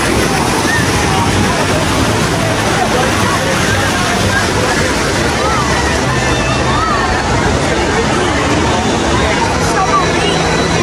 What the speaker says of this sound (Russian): Там бассейн с волнами.